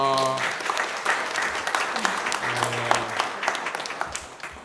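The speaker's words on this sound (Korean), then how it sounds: "박수로 한번 환영합니다" A church congregation claps to welcome an elder at a Sunday service, steady applause filling the room while a voice speaks over the start and again partway through.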